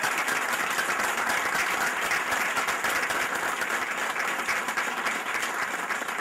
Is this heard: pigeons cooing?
no